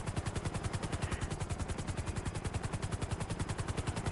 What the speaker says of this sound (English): Just got this cool helicopter.